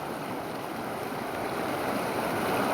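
A waterfall in rain gives a steady, broadband rushing roar that stays constant and fairly loud throughout, with no voices.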